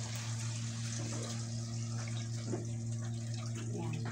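Tap water runs steadily while something is washed during home cooking of pansit bato, a continuous close gush over a low mechanical hum, with faint voices in the background.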